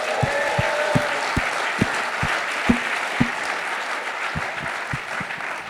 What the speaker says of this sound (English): Guys, give Curt one more round of applause.